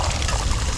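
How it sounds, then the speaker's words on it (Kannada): Water is poured into chicken curry being cooked at a party with friends, giving a brief, close splash and pour with no voices heard. "ನೀರು ಹಾಕ್ಬಿಡೋಣ"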